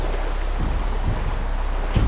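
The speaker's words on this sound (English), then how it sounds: "The wind grew stronger with every passing second." Strong storm wind roars and buffets continuously, loud and close, with gusty low rumbling.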